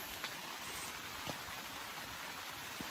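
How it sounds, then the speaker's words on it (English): Light rain drizzling at night at a camp, a soft steady hiss of fine drops with a few faint sharper patters, quiet and close, no talking. "It's kind of drizzling now."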